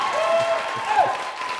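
A studio audience applauds steadily at a television show, a dense close patter of clapping that carries through with a voice briefly audible under it.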